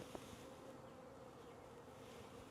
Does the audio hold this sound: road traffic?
no